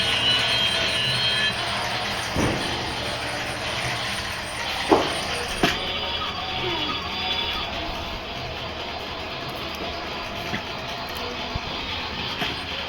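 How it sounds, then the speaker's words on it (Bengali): Indoors, a continuous train-like rumble with a hissing wash runs throughout, broken by a few sharp clicks and thumps. "আমাদের ঘরের মধ্যে ট্রেন দিয়ে যাচ্ছে।"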